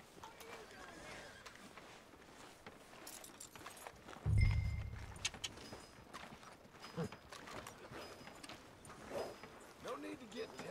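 Horse hooves clip-clopping at a slow walk in Red Dead Redemption 2, a faint, irregular patter under game ambience and speech, with a louder low thump partway through.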